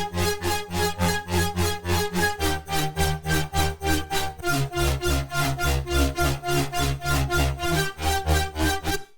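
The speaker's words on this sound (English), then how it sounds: "They're super unique, and this third chord, Atomic, sounds like this." Serum synth chord preset Atomic for future bass and trap, a rapidly pulsing, gated chord pattern chopping rhythmically through several chord changes, bright and full, played alone without talk.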